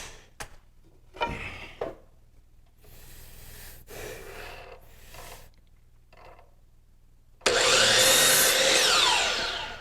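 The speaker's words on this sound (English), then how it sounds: "Go over to the chop saw. I'm just roughly cutting these pieces." A DeWalt chop saw roughly cuts wood pieces into test strips for a steam-bending project. After quiet handling noises, a loud, harsh cutting roar comes in and holds steady to the end.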